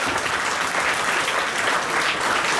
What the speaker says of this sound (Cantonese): 各位嘉賓，可唔可以再一次俾掌聲佢哋？